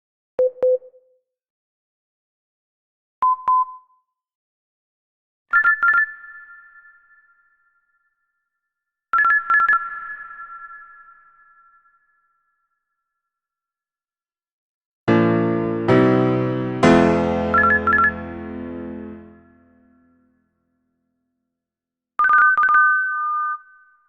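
TV Globo's plim plim audio logo: short paired electronic chimes like a telephone ring, repeated at different pitches with silent gaps between them, plus one longer, fuller orchestral jingle partway through.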